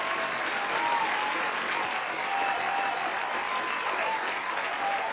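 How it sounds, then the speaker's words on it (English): A round of applause from an audience: a steady, continuous wash of many hands clapping at an even level throughout, with no voices over it. "Let me give you a round of applause."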